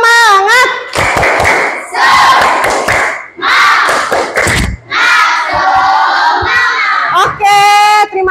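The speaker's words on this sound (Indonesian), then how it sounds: "Tepuk semangat." A school class claps out a rhythmic cheer, bursts of hand claps and thumps in quick patterns with children shouting and chanting along, loud and close.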